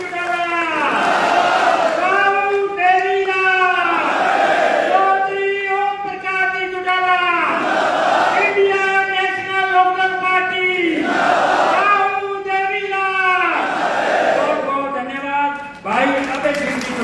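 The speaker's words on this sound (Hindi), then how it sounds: "जोरदार तालियों नारों के बीच में चौधरी अभय सिंह जी चौटाला" A rally crowd in Sirsa chants slogans in loud, rhythmic bursts, with repeated collective shouts rising and falling in waves close by and no clear break in the noise.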